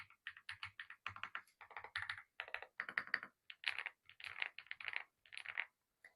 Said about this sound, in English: My favorite part about this keyboard is the sound. It is definitely the creamiest keyboard that I have